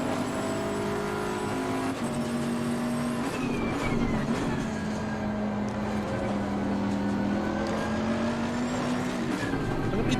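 A race car engine in Assetto Corsa Competizione drones continuously, its pitch climbing and falling through gear changes at a moderate, steady level with no talk.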